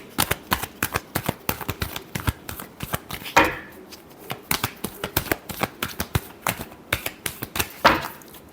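Tarot cards being shuffled by hand, a rapid series of sharp, close riffling snaps in uneven bursts, with a couple of louder card slaps along the way and no talk.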